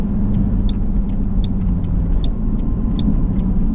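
A tuned Ford Mustang S197 engine idles with a steady low rumble, broken by faint regular ticking sounds, continuous and close throughout.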